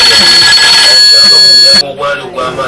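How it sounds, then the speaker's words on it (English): A telephone rings with an incoming call, a loud electronic trill that sounds for most of the moment and then cuts off abruptly. "Mr. and Mrs. Haruna receive a phone call from one of their coffee buyers"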